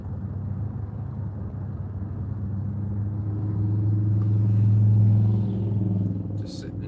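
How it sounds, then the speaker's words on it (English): Car idling in rush-hour traffic: a steady, close, low engine-and-road rumble that swells slightly midway, with faint muffled voice-like sound underneath. "Just sitting in traffic."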